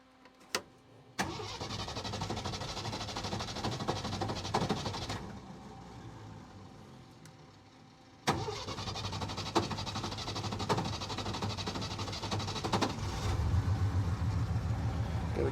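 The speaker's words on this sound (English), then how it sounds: "let's crank her up, see what happens" A Jeep CJ5, broken down on an off-road trail with air in its fuel system, cranks and catches into a steady idle, then drops off and cranks again before running on with a rough, even engine drone.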